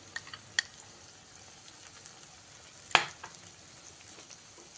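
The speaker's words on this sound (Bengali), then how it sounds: "দিয়ে ভালো করে কষে নিই" Spice paste for a hotel-style egg curry fries quietly in a pan as a faint, steady sizzle, broken by a few light utensil taps and one sharper clank near the middle.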